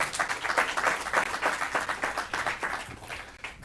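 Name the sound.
audience applause at business summit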